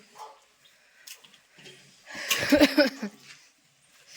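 A dog gives a short burst of barks near the end, preceded by quiet muffled voices and rustling; fairly close, brief.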